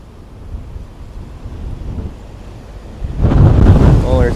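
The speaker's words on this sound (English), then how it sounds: "Oh, there's a big gust." A strong gust of wind at Dublin Airport roars across the microphone, a steady rushing buffet that swells louder and harsher toward the end.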